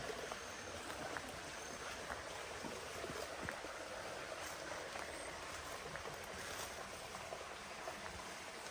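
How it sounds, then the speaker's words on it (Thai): Faint, steady rushing of water flowing inside a cave, a soft continuous wash with occasional small splashes, no voices. "ตอนนี้มันมีแค่เสียงน้ำไหลเลยเด้อ"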